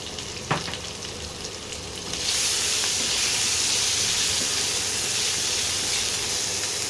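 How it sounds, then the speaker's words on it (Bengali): Potatoes with turmeric and salt fry in hot oil in a pan, first a softer sizzle with a light clink, then a loud, steady, close hiss of frying that holds to the end. "ভালো করে আলুগুলোকে একটু ভেজে নেব"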